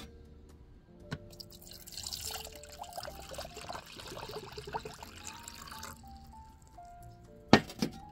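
Water poured into a Brita filter pitcher, a quiet trickling and splashing that swells for several seconds, then eases into soft drips, closed by a sharp plastic click near the end.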